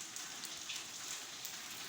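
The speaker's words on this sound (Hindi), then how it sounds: "फिर तेज़ हो गई है और फिर बारिश आ गई है" Heavy rain pours steadily and close by, a dense unbroken hiss with scattered drops pattering on a surface, heard alone without voices.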